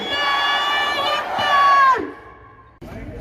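Crowd of Hindu and Muslim women at a Pune rally in support of hijab, responding together to the Naara-e-Takbeer call with a loud sustained collective chant, which fades toward the end before a fresh burst of voices.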